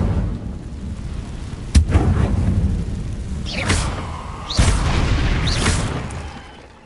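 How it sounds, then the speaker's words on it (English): Incendio fire spell cast in Hogwarts Legacy during a fight with a giant spider, heavy booming blasts and crackling whooshes, two sharp loud impacts standing out over a dense rumbling bed. "Incendio!"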